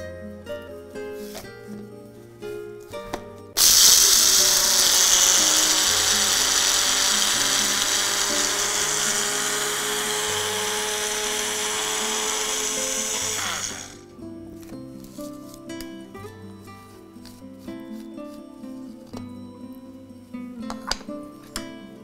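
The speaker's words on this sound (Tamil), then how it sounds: "முதல்ல இதை ட்ரையாக அரைச்சிக்குவோம்." Mixer grinder dry-grinding buckwheat with salt into powder, a loud steady whirring roar that starts abruptly, runs about ten seconds and cuts off, with background music before and after.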